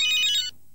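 A bright electronic Nokia phone ringtone warbles in a quick repeating pattern for about half a second, then cuts off abruptly into near silence.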